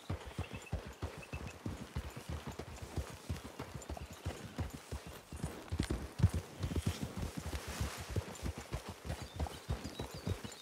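Steady clip-clop of horse hooves walking at an even pace in Red Dead Redemption 2, close and continuous, with rustling in the background and no talking.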